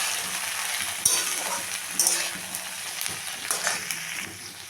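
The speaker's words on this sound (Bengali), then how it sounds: "দিয়ে একটু ভেজে নেব।" Drumstick flowers (sajne phool) frying in hot oil with tempering spices in a pan, a steady close sizzle with a few sharp clinks and scrapes of a spatula stirring, no talk.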